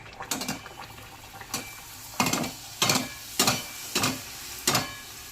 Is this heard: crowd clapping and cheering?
no